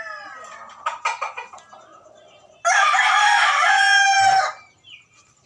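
A few clucks, then a gamecock rooster crows loudly and close by in one long, drawn-out call that trails off into quiet.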